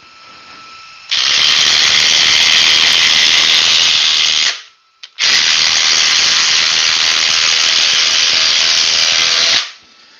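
A DeWalt power tool whines loud and steady at full speed for several seconds, stops briefly, then starts again and runs hard before cutting off.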